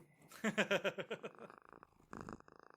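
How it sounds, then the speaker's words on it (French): A cat purrs softly up close in a short run of rhythmic pulses, then pauses and resumes briefly. "elle me gosse pis elle ronronne full"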